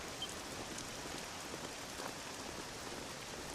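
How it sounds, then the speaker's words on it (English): Steady, even rainfall patters in Dragon Quest 7, a soft continuous hiss of drops with no voices or other sounds over it. "This accursed rain will chill ye to the bone."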